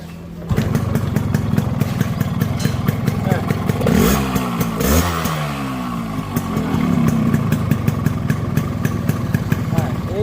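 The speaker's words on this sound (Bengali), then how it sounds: "ইঞ্জিনের একবার জিরো সাউন্ড আপনাদের তো দেখালামই আরও আরেকবার দেখায়" A Yamaha RX 100 motorcycle's two-stroke engine idles and is revved up and back down, loud and close, with steady rapid firing pulses throughout.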